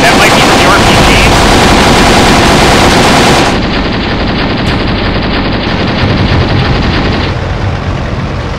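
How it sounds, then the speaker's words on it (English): Intense gunfire in the tactical war game Graviteam Tactics, with loud dense machine-gun bursts and possible RPG blasts, a continuous close barrage that thins slightly partway through. "we're taking some serious fire there. That might be from the RPGs"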